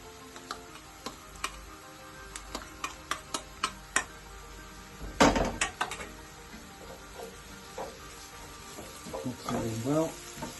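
Fresh, finely chopped curry leaves and ginger added to hot oil with browning onions, giving scattered sharp ticks and a brief louder burst of sizzle and stirring, then quieter crackles with a voice speaking briefly near the end.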